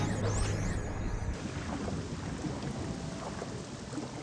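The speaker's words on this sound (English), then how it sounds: "Did I just hear thunder and see lightning?" Thunder rolls through a stormy night in the open-world RPG Morrowind, a broad rumbling wash over steady rain that holds loud for about four seconds before easing slightly.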